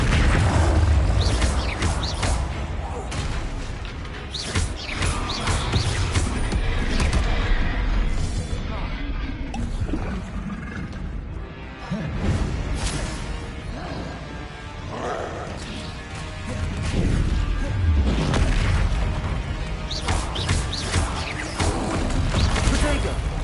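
Spell-casting blasts and explosions from the Hogwarts Legacy video game, with repeated loud booms, crashes and mechanical clatter across a busy battle mix, under a voice calling out spell names.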